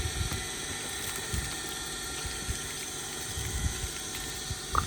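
Water splashing and running steadily as it is poured over a horse during a bath, a continuous wet rush with scattered low thumps and splashes, fairly close.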